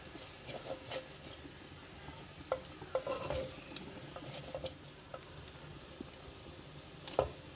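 Spices with salt, crushed chilli and turmeric, along with chicken for a restaurant-style chicken handi, frying in a pan, with a steady low sizzle broken by intermittent stirring scrapes and taps close by, no voices.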